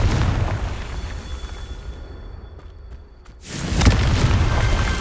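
A blasting spell detonates in the Hogwarts Legacy video game: a sustained rumble fades to near quiet, then a sudden loud explosion bursts in and rolls on as a heavy, close boom.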